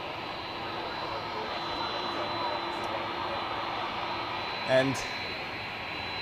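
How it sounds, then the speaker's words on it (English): ULS Cargo Airbus A310 freighter at Zurich Airport, its jet engines giving a steady distant roar and whine throughout, with a brief voice and a short louder blip near the end. "The ULS Cargo A310 freighter. You may hear it already, the sound is amazing."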